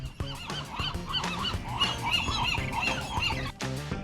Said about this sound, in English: Yeah, the seagulls are so smart,